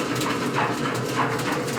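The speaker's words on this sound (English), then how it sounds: "That's the dog." A dog barks and whimpers nearby in short repeated yelps and whines, roughly evenly spaced, outdoors beside a grill while coq au vin cooks.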